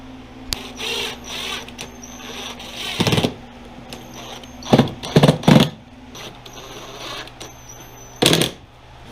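Screws being driven and fastened by hand while an airbox goes back onto a Yamaha triple motorcycle, heard as scattered clicks and short clattering bursts of tool and metal contact in a quiet workshop, with no talk.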